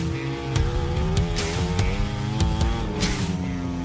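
A MotoGP racing motorcycle on the Mandalika circuit, its rider battling for rear tyre grip, holds a loud, steady engine note close by, with the pitch rising and dipping between sharp gear-change blips.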